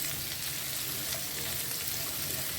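Eggplant and garlic fry on a tawa for Hyderabadi tawa baingan, a soft, even sizzle with faint crackles that carries on steadily and quietly.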